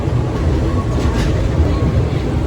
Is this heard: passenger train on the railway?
yes